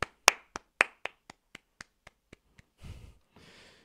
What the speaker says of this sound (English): I'm gonna clap for the ping